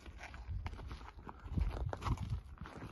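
A rescued horse walks out calmly, its hooves clip-clopping in a loose, unhurried rhythm close by, with some low rustling between the steps.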